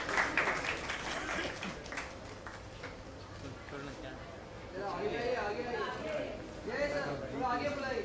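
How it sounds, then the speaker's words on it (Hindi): Audience applause rising from a crowd at a Dance India Dance Season 5 stage event, a broad wash of clapping at the start that gives way to voices and louder stage sound. "जोरदार तालियां हो जाए इन दोनों के लिए।"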